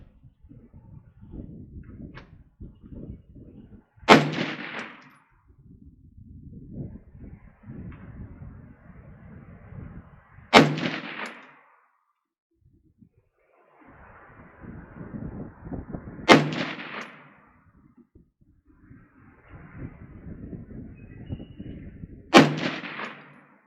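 Four sharp, loud Diamondback DB-15 rifle shots are fired with reloaded ammunition at a 50-yard target, spaced roughly six seconds apart. Quieter shuffling and handling sounds fill the gaps between them.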